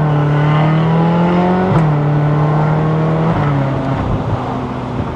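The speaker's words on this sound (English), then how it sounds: "It's got good Ferrari sounds." A Ferrari California's engine drones loudly from the cabin while driving, its pitch dropping in a few distinct steps as the gearbox upshifts, with a brief pop at one change and no talking.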